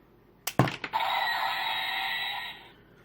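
Transformers Cybertron Leader Class Megatron toy firing its missile: a few quick plastic clicks and a snap, then an electronic firing effect that holds for about two seconds before cutting off. Close and clear, with no talking.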